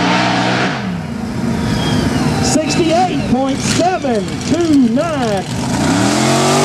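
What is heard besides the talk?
Chevrolet mega truck accelerating hard on race track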